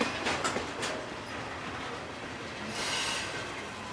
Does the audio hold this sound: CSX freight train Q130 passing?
yes